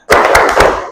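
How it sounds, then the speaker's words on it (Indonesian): A group does a rhythmic spirit clap in a classroom session, several loud, sharp claps struck together in a quick patterned beat, close and punchy, with no speech over them. "Tepuk semangat"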